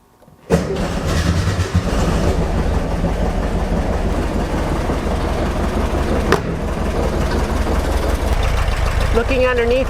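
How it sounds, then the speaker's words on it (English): A Speedster car engine starts abruptly and settles into a loud, steady idle close by, running evenly without a break. "go ahead and start the engine again and let it run a little bit longer this time"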